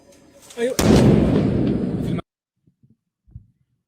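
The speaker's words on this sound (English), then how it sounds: "I believe this one is showing the explosions" Explosions from a quadcopter attack on a boat in a flotilla, played back: a sudden loud broadband blast roars for over a second, then cuts to near silence with a few faint low thumps.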